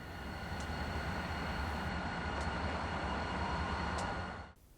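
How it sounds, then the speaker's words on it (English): A BNSF freight train passes in Truckee with a loud, continuous rumble of wheels and rails. Faint squeals rise now and then, and the sound cuts off abruptly near the end, with no voices. "technically this is a BNSF train"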